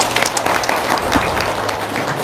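Audience at a business seminar applauding, dense continuous clapping with crowd murmur, fairly loud and close throughout the short stretch.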